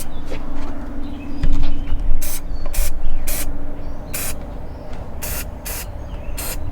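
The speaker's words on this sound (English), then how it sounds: "I'm spraying it with a homemade funnel." Repeated bursts of hissing spray as a coating is sprayed onto a deck through a homemade funnel sprayer, short pulses at an irregular rhythm, close and fairly loud over a steady background hum.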